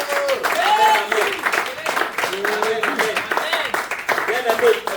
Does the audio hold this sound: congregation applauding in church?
yes